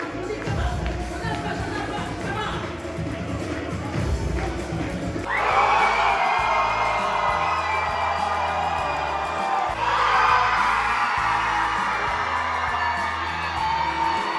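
Wedding guests at the Montreal Science Center scream and cheer together before a dance party, in two loud sustained bursts of whooping and yelling from a crowded room, with music and talk underneath.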